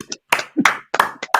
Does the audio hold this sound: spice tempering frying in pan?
no